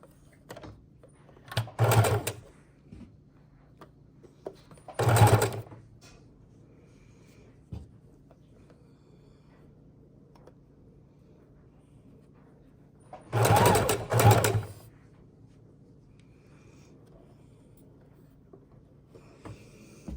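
A sewing machine stitches fabric scraps and lace in three distinct bursts, two short runs and a longer double run, with quiet pauses between them and no talking.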